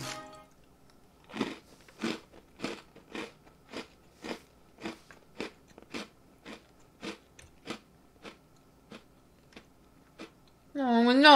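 Crunchy chocolate-mint food chewed close to the mic, about seventeen steady crunching bites in a regular rhythm, followed at the end by a loud voice.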